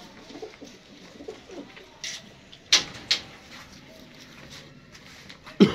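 Pigeons of a prized breed give soft, low coos close by, alongside a few sharp clacks and flutters in a quiet loft.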